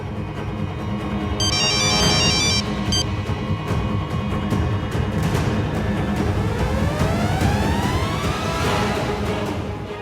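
A phone ringtone rings loudly in a dramatic indoor TV scene, a repeating electronic melody with a rising sweep, set against a steady background score and no speech.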